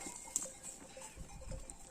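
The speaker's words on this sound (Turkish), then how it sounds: "Kara kafalı koyunumuz burada." A black-headed sheep on a mountain pasture gives a faint, brief bleat, distant and quiet over low outdoor background noise.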